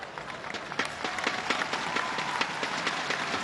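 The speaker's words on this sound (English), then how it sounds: "Crowd showing their appreciation for their skipper" A stadium crowd at a football match between Boeung Ket FC and Sanna Khanh Hoa BVN FC applauds their team captain, with many hands clapping in a brisk, continuous patter that builds and stays lively.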